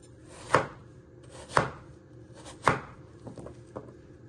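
A knife chops potatoes into pieces on a board for pork stew, with three firm, evenly spaced thuds followed by a couple of lighter taps, close up and with no talking.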